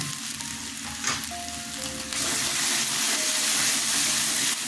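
Ground spices (turmeric, chilli, coriander, cumin and Kashmiri chilli powder) fry in oil in a pan for potato and papad curry, giving a steady close sizzle that turns louder and brighter midway, with faint stirring and no voices.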